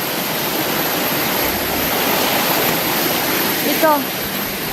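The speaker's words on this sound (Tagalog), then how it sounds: "Dito na location, may sapa." A high-running forest stream rushes steadily close by, a broad even wash of flowing water with a brief faint chirp near the end.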